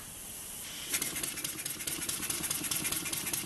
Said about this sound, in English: it even sounds like a steam engine